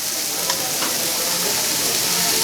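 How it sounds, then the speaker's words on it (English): Steady, dense sizzling of beef belly and brisket on a hot Korean barbecue grill, loud and close, with a faint clink near the start and no talking. "You guys hear that sizzle?"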